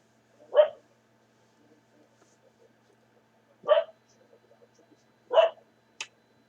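A dog barks three times in separate single woofs spaced a few seconds apart, moderately close in a quiet indoor room, with a short faint higher yip at the end.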